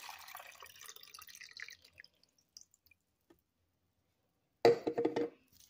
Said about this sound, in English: I'm going to pour my water.